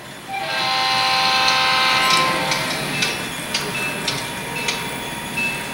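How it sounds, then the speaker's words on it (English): A model train on a club layout loop, with Santa Fe, CSX, SP 3751 and UP engines, rumbles past loudly with a long multi-tone horn blast, then fades into clicking wheels over rail joints. "Man, this loop is one of the best things I've seen any model train."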